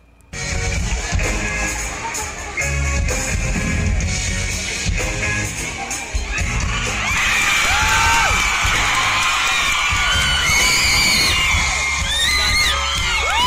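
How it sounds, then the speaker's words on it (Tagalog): A concert crowd at an opening production screams and cheers continuously and loudly, with high shrieks and whoops over a dense, steady roar that swells stronger midway through. "Grabe naman yung tili. Sakit sa tenga."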